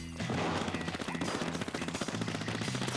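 Gunfire in the video game Splatoon rattles out as rapid, evenly spaced shots in a dense, loud burst that holds for about three seconds with no talking.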